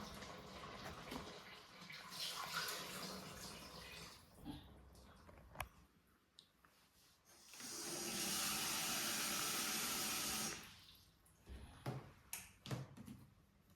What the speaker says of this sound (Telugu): సో ఇప్పుడు నేను దానికి సరిపడా వాటర్ వేస్తున్నాను.